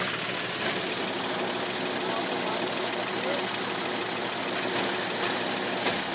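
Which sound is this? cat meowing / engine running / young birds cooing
engine running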